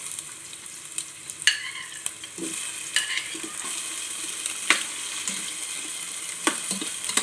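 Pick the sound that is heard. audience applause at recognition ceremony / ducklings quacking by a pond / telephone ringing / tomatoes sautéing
tomatoes sautéing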